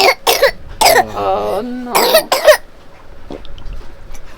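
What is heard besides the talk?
coughing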